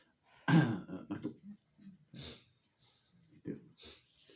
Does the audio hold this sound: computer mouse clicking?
no